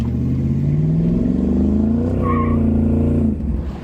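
Ford Mustang SN95 engine running rich on an idle tune, revving with a steady rising-and-falling drone that holds loud and close for about three seconds before dropping back toward idle.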